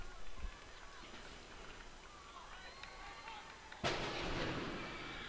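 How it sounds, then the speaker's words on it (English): Fireworks go off near a soccer stadium in Bridgeview during a reserve match, with a faint thud early and a sharp, louder crack followed by a crackling rumble near the end over distant crowd ambience. "It's Bridgeview. It's fireworks."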